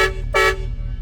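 Two loud blasts of an air horn on a bagged 1999 Chevy Silverado lowrider truck, a short toot then a longer one, over the low rumble of an idling engine.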